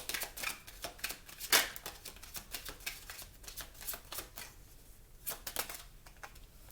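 Tarot cards are shuffled and drawn in a quick run of crisp flicks and slaps, with one sharper riffle partway through, close and fairly quiet with no talking.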